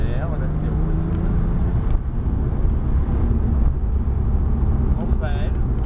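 A Porsche engine revs and accelerates on the Montlhéry race circuit, its tone rising steadily and loud from inside the car, with a voice talking over it.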